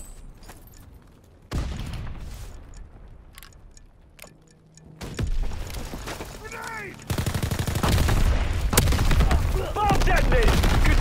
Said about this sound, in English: Bomb detonated!